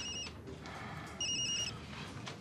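A telephone rings with a bright electronic trill in two short bursts separated by a pause, moderately close in a quiet room, with no speech over it.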